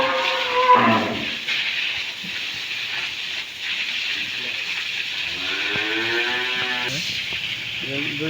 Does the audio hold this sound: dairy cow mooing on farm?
yes